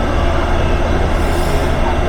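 A Taipei MRT metro train rumbles loudly with a steady low roar of wheels and motors close by, and faint voices sit under the noise.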